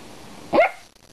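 Maya, a pet dog, lets out a single sharp, close bark that stops quickly against a quiet room.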